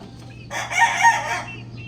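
A white Kelso gamefowl rooster crows once, a loud, close, strained call lasting about a second over a low steady background hum.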